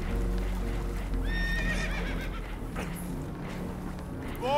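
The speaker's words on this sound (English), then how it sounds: "Horses are spooked" Spooked horses whinny in Red Dead Redemption 2 aboard a damaged boat: a couple of shrill, wavering neighs rise over a constant low rumble of water and engine noise.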